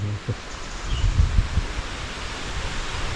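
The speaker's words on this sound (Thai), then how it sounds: "ลมแห้งๆ" Dry wind blowing steadily through leaves, with a broad rustling hiss and a few soft low gusts and bumps near the start, continuous across the whole span with no voices.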